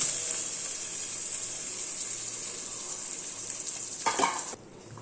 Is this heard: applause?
no